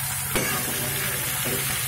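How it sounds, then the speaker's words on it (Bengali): Ridge gourd, pointed gourd, eggplant and Malabar spinach stems fry in a pan, a brief close sizzle with a quick stir or scrape in the middle and no talking. "সব ভালোভাবে একটু ভেজে নেবো"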